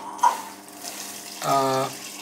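Panasonic NA-F62B3 6.2 kg top-loading fully automatic washing machine starting up: a short beep, a quiet pause, then a brief buzzing hum as the water inlet opens, close and alone.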